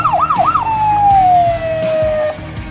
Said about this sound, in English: If you would be here during game day when we score, the lights and sirens go off.